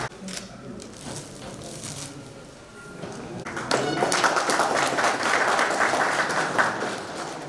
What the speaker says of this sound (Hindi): सभी जोरदार तालियों के साथ में हमारे अतिथियों का स्वागत करें